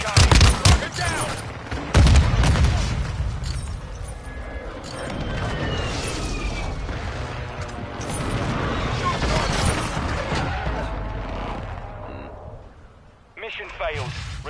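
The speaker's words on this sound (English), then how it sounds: "Hostile airstrike incoming." Hostile airstrike explosions rain down in Modern Warfare 2 DMZ, a dense, continuous roar of blasts and gunfire with a heavy hit near the start and another at two seconds, fading toward the end as a voice briefly speaks.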